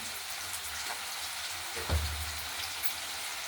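Potatoes and kabuli chickpeas, salted and dusted with turmeric, fry in a pan for vegetarian chana masala, giving a steady soft sizzle with one brief low thump partway through.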